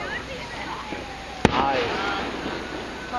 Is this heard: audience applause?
no